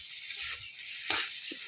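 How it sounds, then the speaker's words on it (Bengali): Leafy green stems fry with onion and garlic in a pan, giving a steady, close, hissing sizzle with one brief clink of stirring partway through. "এই যে ডাটা গুলা বসাইছি পেঁয়াজ রসুন দিয়ে এটা ভাজা ভাজা করবো"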